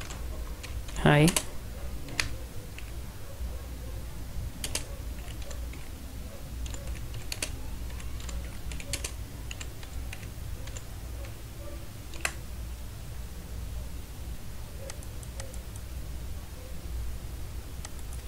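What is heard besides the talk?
typing on a computer keyboard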